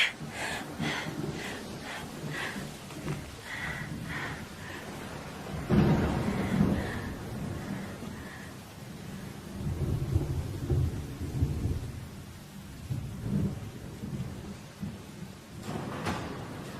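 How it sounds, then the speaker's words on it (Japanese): A thunderstorm fills the scene, with deep rolling thunder swelling in several waves over a steady wash of rain, loud and close with no voices. "私雷大嫌いなの、小さい時から。"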